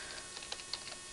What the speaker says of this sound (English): what I'm going to do is just type in import